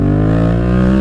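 A modded Yamaha MT-07 motorcycle engine revs loud and close, a steady, throaty buzzing drone held for about a second.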